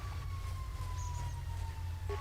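An emergency vehicle siren wails in a slow, steady tone over a loud low rumble of traffic or engine noise, moderately close and without voices.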